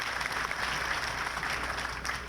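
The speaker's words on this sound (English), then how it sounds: "Let's give her another round of applause." Soft, distant applause for supervisor Hilda Solis at a 2017 Memorial Day ceremony, a steady wash of many hands clapping at low level without speech.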